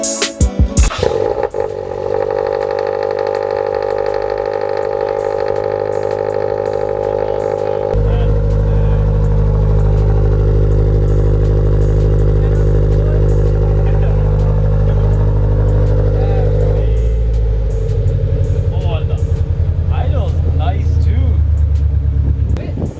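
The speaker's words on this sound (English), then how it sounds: "Open header, cold start." A Toyota 86/Subaru BRZ engine with open headers cranks and fires up on a cold start, then settles into a loud, raw, rumbling idle with stepped changes in pitch; some talking mixes in.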